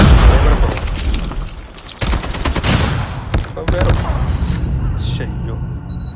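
Rapid bursts of gunfire and booming explosions from a Call of Duty match, loud and dense at first, then sharp repeated shots, with someone talking over the action.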